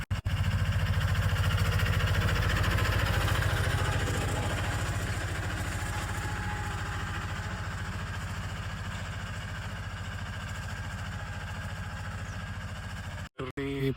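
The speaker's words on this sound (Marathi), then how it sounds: "ते आपण कशा पद्धतीने ट्रॅक्टरच्या पद्धतीने फोडतोय ते तुम्हाला दाखवतो" A tractor breaking up soil beds in a pomegranate orchard during the rest period, its engine running loud and steady throughout with a continuous low rumble, then cutting out abruptly near the end.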